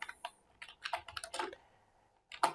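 Quiet clicking of keys being typed on a computer keyboard, a short irregular run of taps with a pause before a final cluster of clicks.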